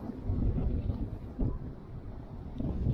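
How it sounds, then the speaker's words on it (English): Strong winds of 35-plus mph from Hurricane Teddy batter the microphone on a beach at low tide, making a heavy, continuous low roar and buffeting that swells and surges throughout. "Lord, some wind. It's worse than yesterday."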